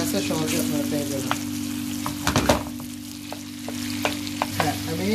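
Chicken pieces frying for a chicken curry, with a steady loud sizzle in the pan, a low continuous hum beneath it and several stirring scrapes and clinks scattered throughout.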